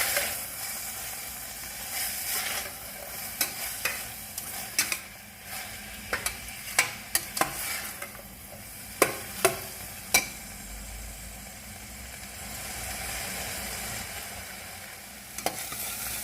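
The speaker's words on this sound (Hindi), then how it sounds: "अब इसमें 1 चम्मच चीनी डालेंगे और 1 मिनट तक मज़ीद पकाएंगे।" Carrots frying in a pan with a spoonful of sugar, a steady sizzle under repeated sharp clinks and scrapes of a spoon stirring against the pan, with no one talking.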